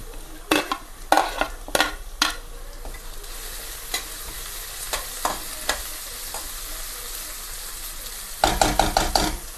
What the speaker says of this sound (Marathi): आता आपण हिरवी मिरची टाकूया.